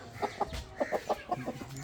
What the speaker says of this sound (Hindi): ये बहुत पुराने असील है, पुराने मियाँ वाली बर्ड्स हैं